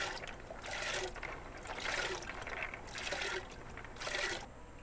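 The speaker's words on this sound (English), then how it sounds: "We finna dump these peas right in this pot that we're gonna be blanching them in." Purple hull peas are poured into a pot of water at a kitchen sink, giving a steady splashing, trickling wash of water in several surging bursts, close and moderately loud, with no talk.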